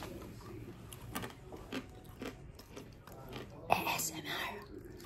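Someone chews fried food cooked in cheap oil, with close, soft crunches and bites scattered irregularly, while people murmur and talk quietly in the background.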